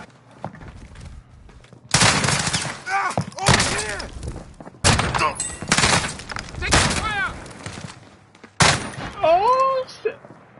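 Shotgun blasts and gunfire in a shooter video game ring out as loud, repeated bursts in several clusters, with excited voices talking over them throughout.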